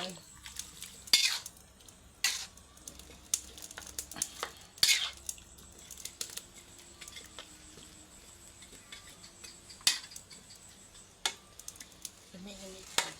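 Pumpkin pieces tipped into a pot of Thai pumpkin curry and stirred, with scattered clinks and scrapes of a utensil against the pot and a soft background simmer, close and fairly quiet.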